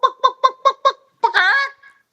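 A man vocally imitates a chicken: five quick clucks in an even rhythm, then a brief pause and a longer, rising squawking crow, loud and close with no other sound.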